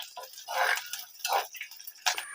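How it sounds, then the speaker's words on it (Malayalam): Mustard seeds and dried red chillies crackle in hot oil while tempering an Onam pachadi curry, giving a few quiet, irregular bursts of popping and spitting. "അപ്പൊ നമ്മുടെ കടുക് പൊട്ടിക്കുന്ന സാധനങ്ങളെല്ലാം ഇട്ടുണ്ടെങ്കിൽ അത് മൂക്കട്ടെ."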